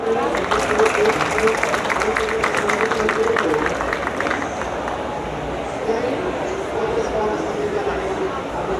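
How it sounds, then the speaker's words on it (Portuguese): A conference panel audience applauds loudly as a state deputy is introduced, dense clapping that gradually thins and softens over several seconds. "Recebam com uma salva de palmas para a abertura deste painel"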